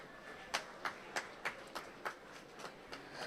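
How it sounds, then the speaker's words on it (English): A single person claps slowly about nine times in a steady rhythm, faint and close, while a Barbados cabinet minister is acknowledged at the CARIFESTA XV festival. "Let's give them a round of applause."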